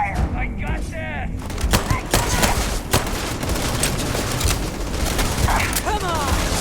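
Rapid gunfire in the video game Starfield, loud bursts of shots and impacts crackling continuously, with voices shouting briefly over the firefight.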